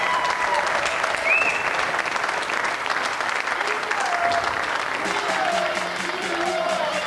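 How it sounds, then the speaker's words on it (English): Sustained crowd applause for Team Europe's Weber Cup bowling victory, dense clapping from a large arena audience filling the whole stretch, with a few faint calls and whistles over it. "let's have another round of applause then for the victors for the second year running off a comeback"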